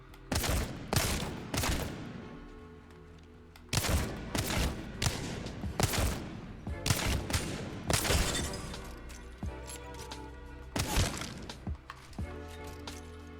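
Rapid bursts of gunfire strike practice targets in the Apex Legends firing range, a video game, with dense clusters of loud shots separated by short pauses and clattering impacts throughout.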